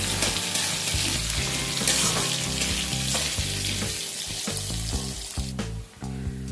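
Strips of potato frying in oil in a pan while preparing a Bengali fish curry, a loud continuous sizzle with stirring and clattering, no voices.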